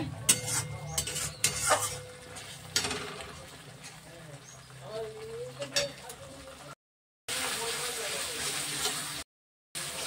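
Masala sautéing in oil for dhoka curry, stirred with a utensil in a pan: soft sizzling with scraping and clinking strokes, irregular and close, briefly cutting out near the end before a louder sizzle resumes.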